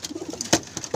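Pigeons coo softly and close by during trap door training, a few low throaty murmurs with flapping or rustling bursts in a brief stretch.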